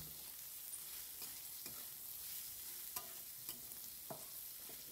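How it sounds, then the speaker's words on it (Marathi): Chopped paneer sizzling in a hot pan while a spoon stirs it for paneer bhurji, a steady bright hiss with a few soft scraping knocks, close and without talk. "बारीक काप केलेले पनीरचे आपण आता यामध्ये टाकणार आहोत व सगळं चांगलं मिक्स करून घेणार आहोत"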